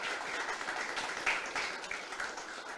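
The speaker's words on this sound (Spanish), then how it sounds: "Dale un aplauso a Jesús." Congregation applauding at the close of a church service, a moderate, steady wash of clapping heard from within the room, with no talk over it.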